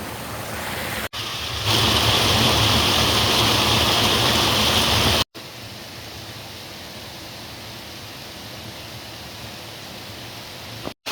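Water pours steadily into a sacred well pool in Wales, a constant broadband rush that grows louder after the first second, then drops to a softer, even flow midway before cutting off; no voices.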